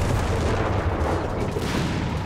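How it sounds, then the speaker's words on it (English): Dense, continuous battle noise from Company of Heroes 3, with overlapping explosions, artillery booms and gunfire filling the whole stretch at high, steady loudness. "We got Mills bombs. We got smoke. We got death. We got explosions."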